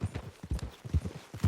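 Horse hooves clip-clop at a walking pace in the western game Red Dead Redemption 2, a close, uneven run of soft thuds with no speech.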